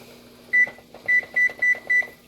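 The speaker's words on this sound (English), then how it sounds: "Just set a timer there." A kitchen timer set while cooking shrimp scampi sounds five short, high, electronic beeps: one alone, then four evenly spaced, over a quiet low hum.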